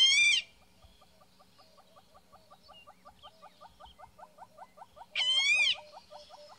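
A recorded woodpecker call plays back outdoors on a safari at sunrise, a long series of rapid, evenly spaced clucking notes framed by two brief, loud, squealing cries at the start and end.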